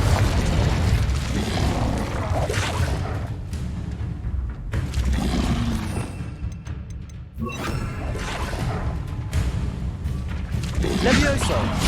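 Repeated booming spell blasts from Confringo in Hogwarts Legacy, heavy low rumbling explosions in quick succession with brief lulls, mixed with spoken incantations and combat noise throughout.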